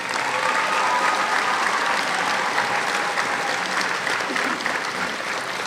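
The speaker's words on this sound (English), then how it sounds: "Let's give them another round of applause." A graduation audience in a high school gym gives a sustained round of applause, dense and even clapping from many hands that fills the room, continuous throughout with no one speaking over it.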